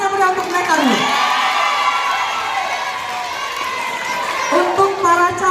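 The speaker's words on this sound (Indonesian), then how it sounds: "Beri tepuk tangan yang meriah untuk mereka dulu." School students in a junior high school hall cheer and shout loudly during a student council election, a dense crowd roar with whoops rising and falling, voices audible through the noise.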